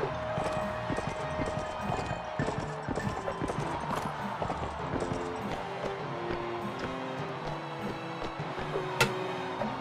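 Horse hooves galloping in the Mount and Blade: Warband video game, a rapid continuous clip-clop beneath battle noise and scattered clanks, steady and close throughout.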